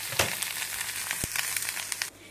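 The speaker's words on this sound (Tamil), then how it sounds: "ஒரே ஒரு தக்காளி பொடியை நறுக்கி சேர்த்து வதக்கிக்கணும்" Steady oil sizzle with crackling spatter as chopped tomato and vegetables fry in a pan for groundnut chutney, plus a few stirring scrapes and a brief low knock partway through.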